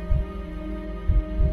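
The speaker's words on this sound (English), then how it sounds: "the repeating shockwaves from before were actually its heartbeats" A gigantic heart's heartbeat sound effect, heard as two deep, booming throbs about a second apart, each swelling out of a low sustained hum with nothing else present.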